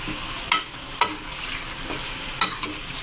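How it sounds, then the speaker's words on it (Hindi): Chicken stir-fried in a pan for a restaurant-style chicken palak, a continuous hissing sizzle broken by several sharp spatula scrapes and taps against the pan. "जब तक चिकन का कलर चेंज नहीं होता तब तक इसकी करेंगे भुनाई"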